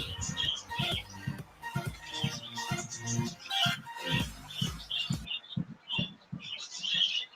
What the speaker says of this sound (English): yung aking mga birds